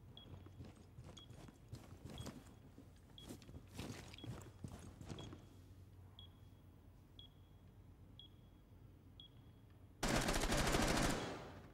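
In a ranked multiplayer video game match, gunfire crackles upstairs, a series of sharp shots in quick bursts at moderate distance, followed by a short loud burst of rapid automatic fire near the end.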